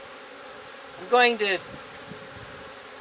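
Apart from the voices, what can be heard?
bees buzzing around beehive frames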